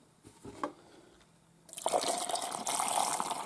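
Hot water pours into a container of brass Sharps rifle cases with citric acid and soap, a steady splashing fill that starts abruptly after a few quiet clinks and runs on close and loud to the end.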